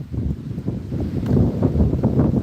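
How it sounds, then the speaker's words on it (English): Gusty wind buffets the microphone outdoors, a low rumbling roar that swells and dips throughout with no voice. "It's a little windy right now"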